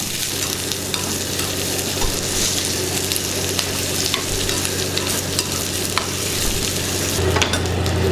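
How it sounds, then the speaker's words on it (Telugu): Onion, dried chillies, garlic and curry leaves sizzle steadily in hot oil for tempering, a loud continuous frying hiss with occasional spoon stirring close by. "పోపు వేగుతుంది కదా"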